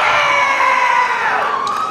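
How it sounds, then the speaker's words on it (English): A convention audience at a cosplay contest yells and cheers loudly, a dense burst of shouting and whooping voices that stays close and sustained for two seconds. "Do you actually know that reference, or are you just yelling because it's time to yell?"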